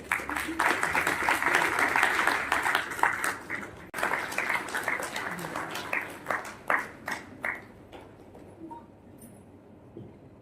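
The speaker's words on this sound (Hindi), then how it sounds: "जोरदार ताली।" An audience claps loudly at a ceremony, starting as dense applause and then thinning into scattered individual claps that fade toward the end.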